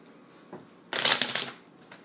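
A deck of cards being riffle-shuffled, a burst of crisp rapid flutter lasting about half a second, close and clear against a quiet room.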